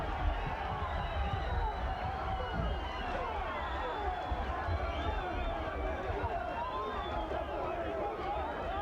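Boxing arena crowd at a WBC super bantamweight title fight rising in a dense, sustained roar of cheering that holds steady throughout, with an excited commentator's voice riding over it.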